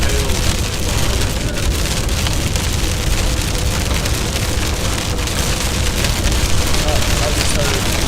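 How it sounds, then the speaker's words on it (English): Heavy rain pours down during a severe storm, a loud, steady roar that stays constant for the whole stretch without a break. "Heavy rain."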